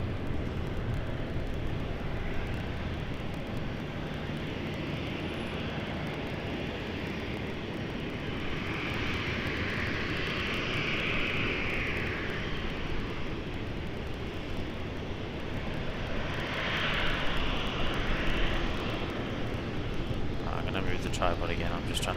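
A fixed-wing airliner taking off at night at Sydney Airport, its engine roar steady and broad with swelling peaks as it climbs, and a person speaking over the noise.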